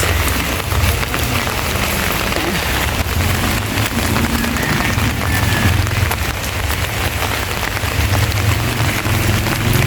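Steady, loud rain pours onto a street in Dasmariñas, a dense continuous patter of drops hitting hard surfaces with no letup.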